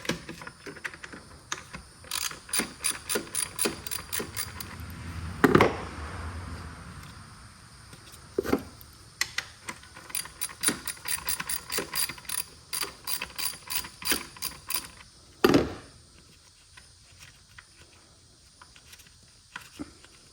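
A hand ratchet tightens a blow off valve plate on a Hornet 2.0L engine. Close, rapid clicking comes in repeated runs with short pauses and an occasional louder clunk, and no talk is heard.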